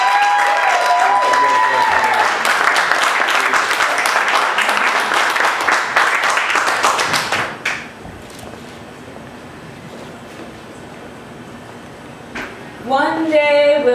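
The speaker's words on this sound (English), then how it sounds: "Keep clapping." Audience applause at a spoken-word poetry show in New York, loud continuous clapping for about seven seconds, then it fades out to quiet room tone before a voice begins near the end.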